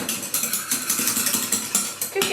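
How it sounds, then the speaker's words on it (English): A whisk beats white sauce in a pan in steady rapid strokes, each stroke a bright scraping swish against the metal, close up and continuous with no talking. "give it a good whisk"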